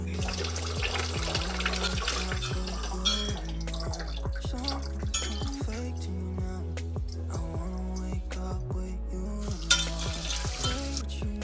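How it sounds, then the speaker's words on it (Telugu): Running water splashes and trickles as a new iron griddle pan for dosa is rinsed, with soft clanks of the pan in a home kitchen, steady and fairly quiet. "ఇది ఇప్పుడు కడుగుతాను ఆల్రెడీ కడిగాను మళ్ళీ ఒకసారి కడిగి పెడతాం"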